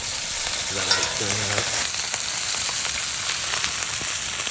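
Steaks sizzle and fry in a hot pan at a campsite, a steady loud crackling hiss with brief stirring or scraping and a short tonal sound near the start.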